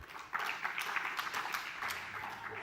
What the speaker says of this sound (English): So please give Jessica a round of applause